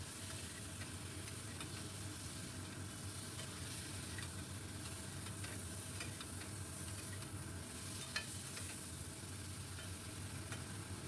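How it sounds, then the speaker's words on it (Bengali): Potato and ridge gourd curry frying in a pan while being stirred, a steady close sizzle with faint scraping ticks from the spoon, quiet and continuous throughout. "নুন দেওয়ার পর বেশ কিছুক্ষণ নাড়িয়ে নেব"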